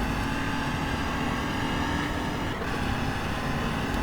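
An Audi R18 Ultra race car engine in the racing game GTR2 holds a dense, steady high-revving roar for about four seconds, loud and continuous with no pauses.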